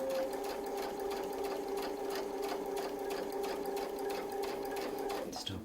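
A sewing machine stitches a quarter-inch seam against a Westalee ruler template, a continuous close whirring hum with fast even needle ticks that stops abruptly near the end.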